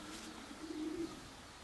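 Racing pigeons coo softly in a faint, low murmur as birds arrive back at the loft, one drawn-out coo standing out briefly near the middle.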